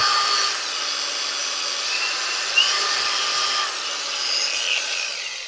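An ELTOS cordless power tool with a 4 Ah battery and three speed modes runs steadily up close, giving a continuous bright whirring whine that holds for several seconds with a slight blip midway.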